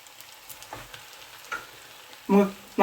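Pork fry in a pan being stirred as turmeric and cumin powder go in, a soft sizzle with light scraping and a louder clank of the utensil near the end, and no talking.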